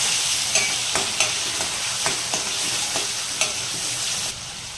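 Moong masala being stirred into freshly made puree in a hot pan: a steady sizzle runs throughout, broken by sharp, regular spoon scrapes against the pan, with no voices.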